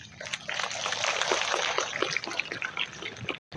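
Water is poured onto a potted plant at a school International Day of Yoga celebration, a steady splashing trickle that runs for a few seconds and then stops abruptly.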